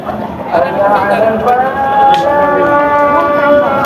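Cattle lowing among bullocks at the Monday Dugdugi cattle market, a drawn-out tonal call rising over a busy crowd with people talking nearby.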